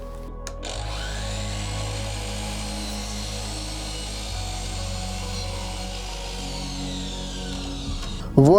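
A power tool saws through a wooden board being cut down for a floating shelf: one steady, droning cut runs continuously for about eight seconds, then ends with a sharp knock.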